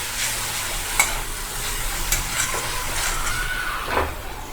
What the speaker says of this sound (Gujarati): સ્વાદ મુજબ મીઠું નાખીશું અને બરાબર મિક્સ કરી લઈશું।